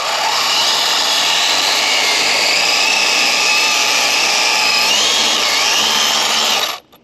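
An RC car fitted with a new Castle 2650kv motor does a burnout on brand-new tires, producing a loud, close, continuous high-pitched motor whine with shifting tones for nearly seven seconds before cutting off abruptly.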